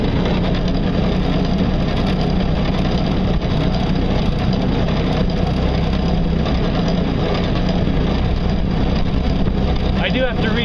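The electric motor of an ultralight solar speedboat runs on the water, a constant loud low hum with rushing water noise that continues evenly throughout.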